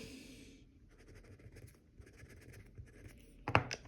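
Writing with a Kaweco AL Sport or Staedtler Noris Digital EMR pen: faint, close scratchy strokes in quick irregular bursts, ending with a sharper tap.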